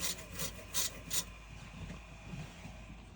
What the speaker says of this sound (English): I'm going to rub the nozzle here with the steel brush